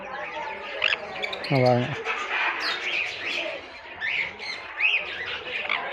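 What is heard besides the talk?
birds chirping inside an aviary cage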